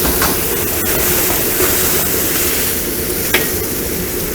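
Tofu goes into a wok of hot liquid and is stirred while mapo tofu cooks, giving a loud, constant sizzle and bubbling with occasional light scrapes and no talk.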